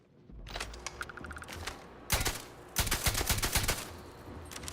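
A VSS hunting rifle fired in the video game Starfield, sharp rapid bursts of suppressed shots in quick strings, loud and close, with mechanical clicks between volleys.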